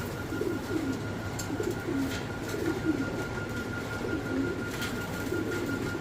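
Fancy owl pigeons coo in a loft, soft repeated low burbling calls rolling in a steady rhythm over a constant background hum.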